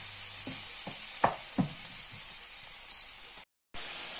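Chopped onion sizzles in a frying pan for chicken and mushroom pasta, with a steady hiss and a few sharp utensil scrapes from stirring, then a brief drop to silence before the frying resumes.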